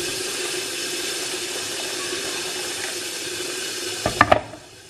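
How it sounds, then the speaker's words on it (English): Steady rushing of warm water pouring into a container, close by, ending with a few quick clinks and clatters. "Then I'm going to add warm water"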